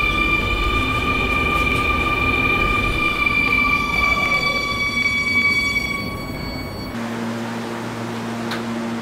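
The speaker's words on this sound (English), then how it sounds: "This is a Kennedy Main Street bound 7 express train." Roblox video game R220S subway train running on an express line, a steady rolling rumble with whining motor tones that fade down, then shift to a quieter hum as the train slows.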